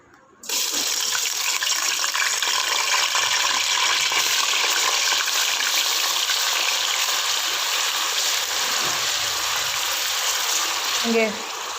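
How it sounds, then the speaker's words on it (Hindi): Onions dropped into hot oil burst into a loud, dense, continuous sizzle that starts abruptly after a brief quiet moment and holds steady, close up, with a faint clink near the end. "फ्राई होने तक इसको पकने देंगे"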